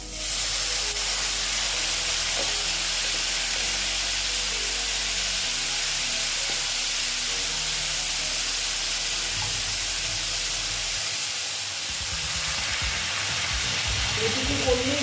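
Bitter gourd sizzling and hissing in a pan after a little water is added, a steady, loud steamy fry throughout with faint stirring clatter near the end.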